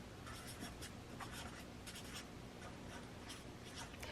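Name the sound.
pen writing on paper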